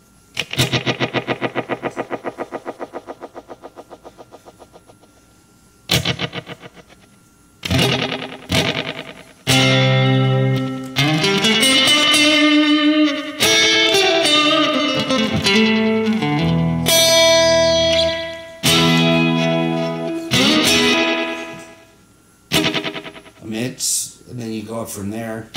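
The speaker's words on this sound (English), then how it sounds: "let's turn the echo volume up a little bit" A Roland RE-150 Space Echo tape echo effect sounds on bursts of tones whose repeats trail off rhythmically, with sections of stacked echoes and abrupt cutoffs, loud and close throughout.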